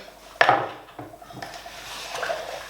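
Spoon stirring 500 grams of sugar into 500 grams of water in a container to make syrup for honeybees, a sharp clink followed by a few lighter scrapes and knocks, close and fairly quiet.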